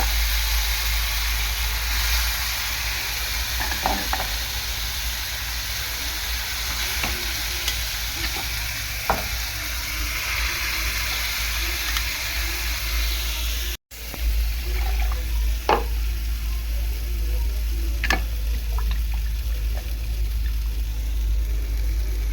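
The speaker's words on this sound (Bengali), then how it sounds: "ডাল দিয়ে দেবো ফোড়নে।" Lentils hiss into hot tempering oil for dal chorchori, giving a steady loud sizzle of frying with stirring scrapes throughout and a brief dropout midway.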